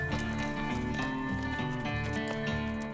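Horse hooves clip-clopping over thick desert sand and scattered rocks during a Wild West horseback ride, a steady rhythmic plodding heard close up under a dense layer of background music.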